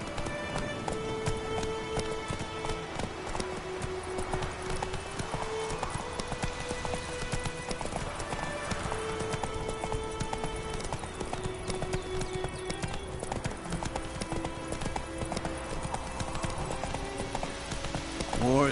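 A horse gallops in the video game Witcher 3, its hooves clip-clopping in a steady, continuous rhythm, close and clear, under game music throughout.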